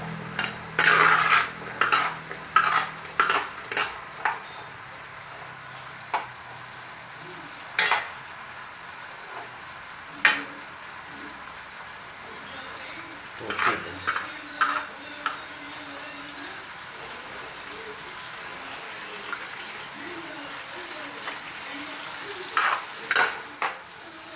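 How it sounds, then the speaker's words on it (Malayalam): Shallots sautéing in a pan for mutton curry, a continuous sizzle broken by repeated metallic scrapes and clinks of a spoon against the pan, close and fairly loud, with no talking. "നന്നായിട്ട് വഴറ്റിയെടുക്കണം ചെറിയുള്ളി"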